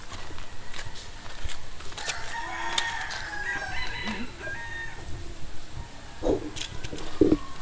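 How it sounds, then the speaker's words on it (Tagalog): Rooster crowing outdoors on a rural farm, a faint mid-distance crow with scattered clucks, soft footsteps and other farmyard noise around it. "Ang laki nung manok."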